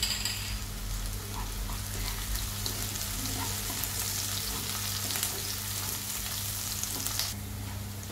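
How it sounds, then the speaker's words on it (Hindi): Onion frying in a pan with cardamom and cloves, a continuous close sizzle with occasional stirring clinks over a faint low hum, no talking. "कांदा फ्राई हो गया।"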